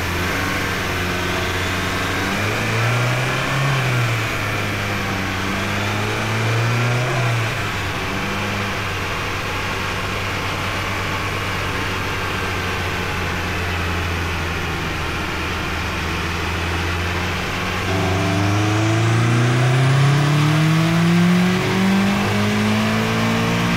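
A 2005 Mazda MX5 Mazdaspeed on a dyno, tuned on Megasquirt, revs through a pull, its engine note rising in pitch, dipping and climbing again to a loud, sustained high-rpm roar.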